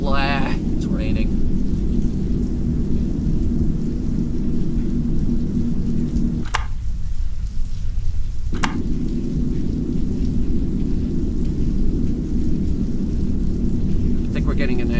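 Steady heavy rain with low thunder rumble in the game Signal Simulator, loud and continuous, briefly cutting out in the middle with sharp clicks at either edge of the gap.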